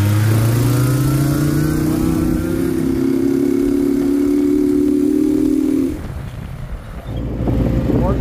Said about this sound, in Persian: بنلی هر چی نداشته باشه صدای اکسوز نازی داره